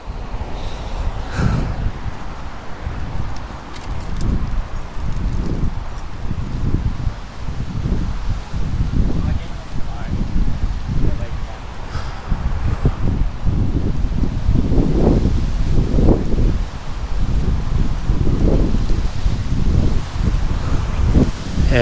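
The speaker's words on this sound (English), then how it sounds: "Yeah, look at the wind picking up now." Gusty wind picks up outdoors in a Sydney park, with leaves rustling in repeated surges and heavy wind buffeting the microphone, loud and continuous for over twenty seconds.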